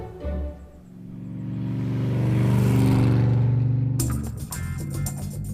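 A Reliant Robin fiberglass car drives by, its engine note climbing and swelling loudly as it draws near, peaking, then fading away, with other noise cutting in near the end.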